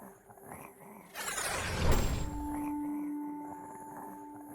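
A short, rough dog growl plays as a sound effect in a word-learning video game, a brief loud burst followed by a steady electronic tone.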